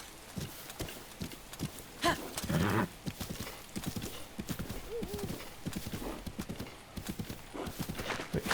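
Horse hooves clatter in Zelda: Breath of the Wild, a fast, even clip-clop that runs through the whole stretch, close and prominent, with a brief whinny and snort partway and no speech.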